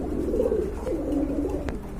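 A pair of racing pigeons coos continuously, a low rolling, warbling murmur that swells and dips throughout, close by and steady with no talking.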